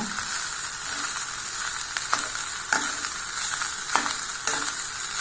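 Egg fried rice stirred in a hot pan on a low flame, a continuous close sizzle with periodic scraping strokes of the spoon, no voices.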